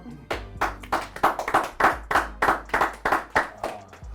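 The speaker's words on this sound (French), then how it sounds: "Un tonnerre d'applaudissements s'il vous plaît pour Adam." Rhythmic hand clapping greets a contestant on a French game show. About a dozen sharp, loud claps land in a steady beat, close and distinct rather than a blended ovation.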